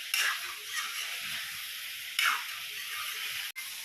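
Duck meat frying in a pan, a steady soft sizzle with occasional stirring scrapes and two brief louder bursts, heard close and alone without talk.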